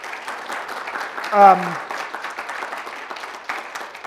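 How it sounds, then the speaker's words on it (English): An audience at a talk on the diversity industry breaks into applause for a speaker, a steady patter of clapping throughout with a brief louder swell and a voice rising over it midway. "Let's give a warm round of applause for Justice."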